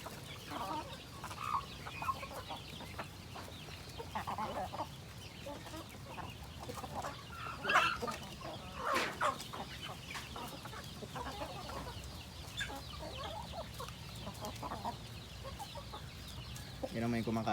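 Free-range native chickens on a farm cluck in scattered bursts nearby, with faint voices in the background.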